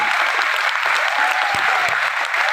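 An audience at a seminar in Sultanpur applauds, a steady, loud wash of clapping from many hands throughout.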